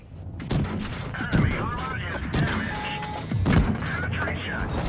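Tank cannons firing in the mobile game World of Tanks Blitz: several heavy, booming shots at roughly one-second intervals, each a sharp blast over a continuous rumbling battle backdrop.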